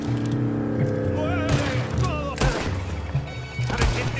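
Gunfire in Red Dead Redemption 2 cracks out in scattered shots over a busy game soundscape with music and ambient noise, a few sharp bursts standing out among continuous background sound.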